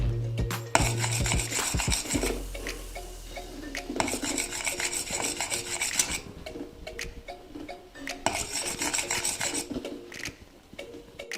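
A spoon scrapes and stirs a thick homemade cocoa chocolate mixture in a pot, in close, continuous rasping strokes with a few louder knocks against the pan.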